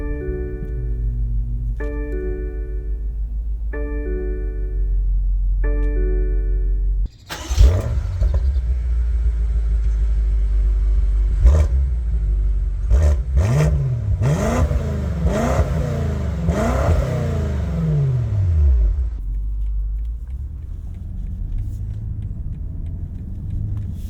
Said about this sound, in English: Let's go ahead and take this M5 out on the road and see how she drives.